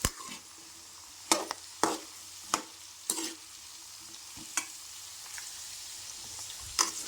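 Ridge gourd chutney ingredients are stirred in a hot pan: a soft continuous sizzle broken by several sharp spatula knocks against the pan at irregular intervals, with no voices.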